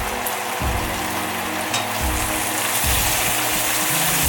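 Egg sizzles and crackles as it is stirred and scrambled in a hot pan, a steady close frying hiss with scraping stirs, no talking.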